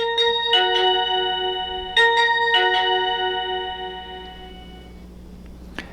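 A 1ByOne wireless door chime receiver plays a short electronic melody, a few clear bright tones ringing out one after another in a quiet room and fading away, with a small click near the end.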